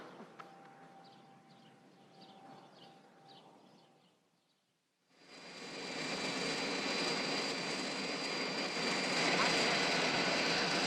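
A jet airplane flying at 600 miles an hour, heard as a sudden, loud, sustained roaring engine rush with a high whine that starts midway after a quieter stretch and holds steady to the end.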